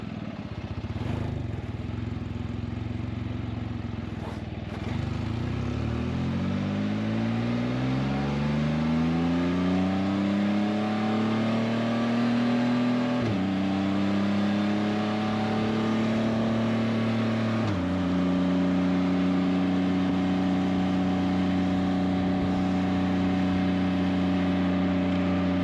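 A Can-Am Spyder RT three-wheel motorcycle on its first ride after belt alignment and tension work, its engine rising through revs with clear gear shifts, then settling into a steady cruising drone, close and fairly loud.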